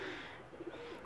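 Pigeon cooing, soft and low, from a small flock of Pakistani flying pigeons, a few faint coos rising over a steady background hiss.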